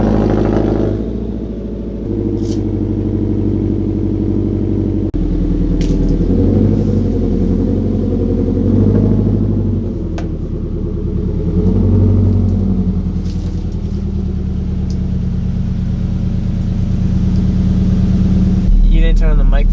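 Turbocharged Subaru BRZ starting from cold, a loud close engine rumble with a settling idle and some revving swells, carried under a steady spoken voiceover throughout.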